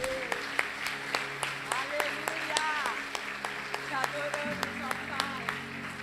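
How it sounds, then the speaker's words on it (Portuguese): Church congregation applauding a family, with distinct, fairly sparse claps close by and voices speaking underneath. "Você pode aplaudir essa família?"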